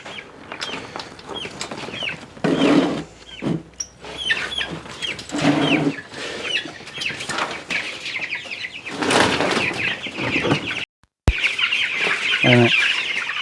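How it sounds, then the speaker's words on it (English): Several chickens cluck and chatter close by on grass, a busy overlapping flock sound with short squawks and a brief gap near the end. "The chickens are all exploring, trying to figure out this is their first time ever on grass."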